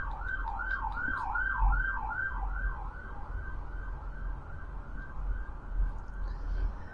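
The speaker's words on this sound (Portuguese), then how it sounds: "Olha, tá passando viatura, ó." A wailing police siren sweeps up and down repeatedly, loud at first then fading as the vehicle passes, over steady low traffic rumble.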